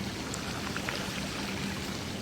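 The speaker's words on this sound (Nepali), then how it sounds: "हेर्नुस्, म अहिले साइकल चलाउँदै पानीमा कस्तो पानी छ।" Floodwater from heavy rain flowing through a Dubai street, a continuous watery rush and splash close by, steady and even with no talking over it.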